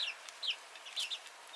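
Young chickens, some still growing tail feathers, make soft, close, repeated clucks and chirps in short bursts over a quiet background.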